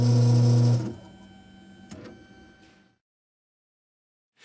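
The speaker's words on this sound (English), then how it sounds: "Close the safety shield and press Start to begin the cutting cycle." Ilco EZ Code key cutting machine cutting a double-sided key blank, a loud mechanical whir with steady tonal hum that drops after the first second into a quieter motor run with a clack near two seconds, then stops into silence.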